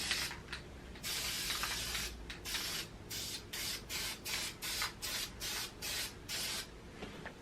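A spray can paints a carbine rifle and its magazine in a run of short, close, hissing bursts, some longer at first and then quick regular puffs, with no voices.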